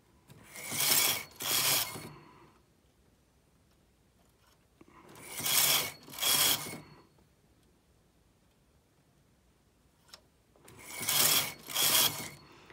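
A Brother knitting machine carriage rasps across the needle bed forming e-wrap cast-on stitches, three passes each made of two close grinding sweeps, separated by quiet pauses, close and alone without talk.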